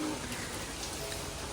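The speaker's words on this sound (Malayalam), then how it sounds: "ഇപ്പോഴും മഴ തന്നെയാണ്." Steady rain falls in a very wet hill area of Meghalaya, a dense, even hiss of drops close by with no pauses or voices.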